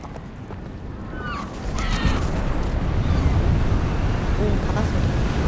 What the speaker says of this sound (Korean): 오, 바다 소리.